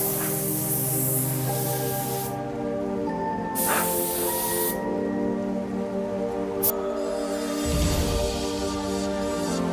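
A black spray paint can hisses in strong, steady bursts during a custom paint job, separated by short pauses, loud and close over a faint background.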